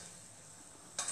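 Oil for frying homemade cannoli shells sizzles with a soft, steady crackle, then a sharper burst of hissing near the end; no speech.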